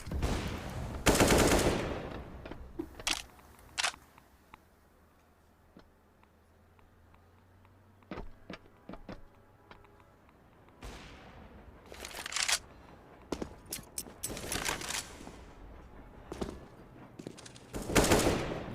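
Counter-Strike AK rifle fire in bursts and single cracks, with sharp separated shots spread across the stretch, a dense cluster at the start and more toward the end, and quiet gaps between.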